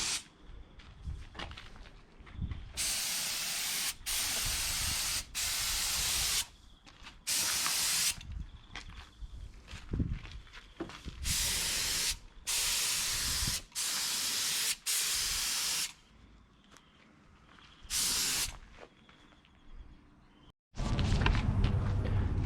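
An aerosol can sprays paint onto an IS200 engine cam cover in repeated long hissing bursts, each a few seconds long with short pauses between, loud and close.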